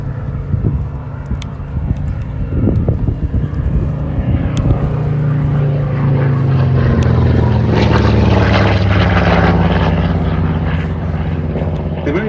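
Loud rumbling propeller drone from a P-36A fighter plane flying past at the Duxford D-Day anniversary airshow, swelling as it nears and then easing off, with a narrator talking over it.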